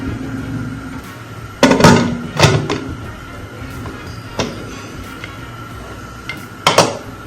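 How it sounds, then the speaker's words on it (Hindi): A pressure cooker lid being fitted and locked shut over a mutton curry, several sharp metallic clacks and knocks, two of them clustered near the middle and more toward the end, set against a quiet kitchen background. "और कुकर को अब मैं बंद कर देती हूँ।"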